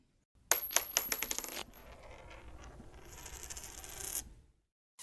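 A coin drops onto a hard surface with several quick, bright metallic rings. It settles into a softer spinning rattle that fades out, heard alone with no talking.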